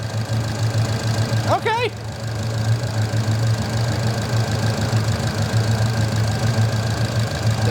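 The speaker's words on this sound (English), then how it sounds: "But it's idling at around 800 RPM." A turbocharged V8 police car with custom exhaust, EFI and intercooler idles at around 800 RPM, a steady loud rumble with a low hum running throughout, while someone speaks briefly over it.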